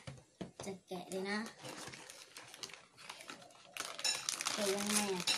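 Plastic chocolate packaging crinkles and rustles as it is unwrapped by hand after being cut with scissors, in bursts of close, loud crackling, with someone speaking over it.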